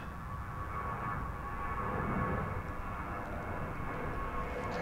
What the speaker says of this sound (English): You may hear in the background a plane taking off